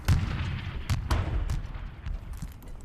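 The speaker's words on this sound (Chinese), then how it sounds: "太大了，太大了，炮击量真太大了。" Artillery barrage in a war drama about the Longgudong battle: a rapid series of loud, close booms and cracking blasts overlapping one another, with no speech.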